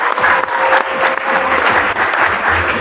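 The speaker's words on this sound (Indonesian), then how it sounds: "Tepuk tangan untuk kita semua." A school audience at a Cirebon event with Bank Indonesia applauds loudly and continuously, thick, even clapping close by for the full few seconds with no talk over it.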